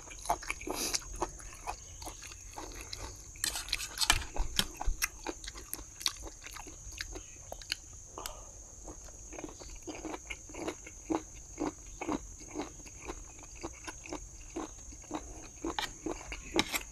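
Someone eats a spicy pounded apple snail salad, producing repeated close, crisp crunches and wet chewing bites in an irregular rhythm over about seventeen seconds, fairly quiet and with no speech.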